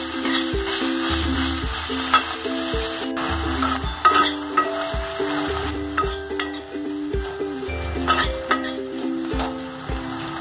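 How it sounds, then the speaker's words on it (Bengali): Ginger paste fries vigorously in a pan while preparing Bengali dahi katla, a loud close sizzle with frequent spatula stirs and scraping knocks throughout. "আদার পেস্টটা ঢেলে দেব। খুব ভালো করে ভেজে নেব।"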